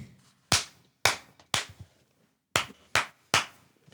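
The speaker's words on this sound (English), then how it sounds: "Matt, clap first, please." Sharp, close hand claps in a quiet room during a round-table podcast recording: six separate loud smacks spaced irregularly over a few seconds, each decaying quickly into near silence.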